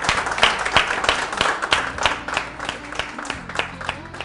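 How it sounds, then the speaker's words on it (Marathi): A crowd of spectators at a modak competition in Nashik claps loudly and continuously, a dense, lively applause that fills the room from start to finish. "जोरदार टाळ्या एकदा सगळ्या स्पर्धकांसाठी"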